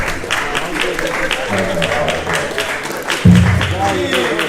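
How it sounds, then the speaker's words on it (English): Applause from a crowd, steady and continuous, with voices and cheering mixed in throughout. "Round of applause."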